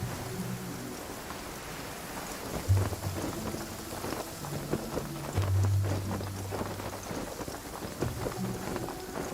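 A steady rain downpour in the video game Genshin Impact. Dense, hissing rainfall runs throughout, with low rumbles swelling beneath it and no talking.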